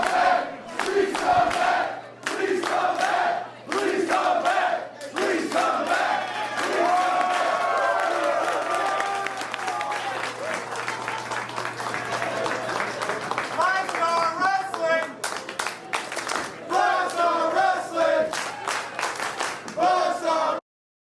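Crowd noise at an independent wrestling show in the Bottom Lounge venue, with cheers, whoops and scattered clapping rising and falling steadily across the whole stretch, fairly close and loud, with voices shouting through it.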